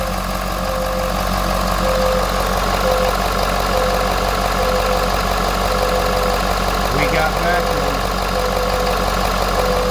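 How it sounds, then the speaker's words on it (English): A 2015 Ford F550 truck with a 6.7 Powerstroke diesel idles at a steady, loud drone, with a brief clatter partway through. "Okay, just started the truck, pumps on."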